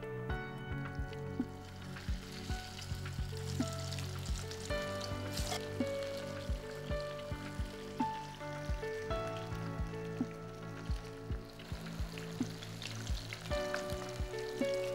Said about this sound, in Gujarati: બોલ્સ જે વાળ્યા છે એ ફ્રાય કરી દઈએ